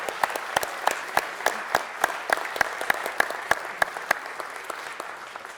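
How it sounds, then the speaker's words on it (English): A small group in a city council chamber claps for the Loyola high school football team, giving sparse, distinct individual claps in an uneven rhythm that fade toward the end, with no talking over them. "Let's give them another round of applause."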